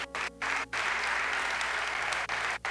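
A church congregation applauding loudly in a hall, a dense wash of clapping hands that breaks briefly a few times before swelling again.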